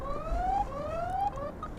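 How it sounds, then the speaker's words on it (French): A Super Soco TC Max electric motorcycle's alarm sounds close by, a steady siren-like tone rising and repeating in short sweeps, with no talking. "ouais, ça va l'alarme."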